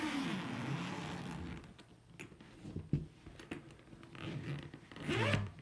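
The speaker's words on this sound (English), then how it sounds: "It has an external zipper." An external zipper on a flute-style carrying case is pulled open, a close, rasping burst of zipping, followed by a few clicks and handling sounds.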